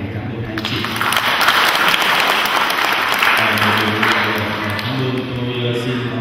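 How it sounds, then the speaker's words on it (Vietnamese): Congregation at a Catholic wedding mass applauds warmly, a dense, sustained round of clapping with voices and musical tones underneath, fading slightly toward the close. "Chúng ta một tràng pháo tay để cảm ơn anh chị."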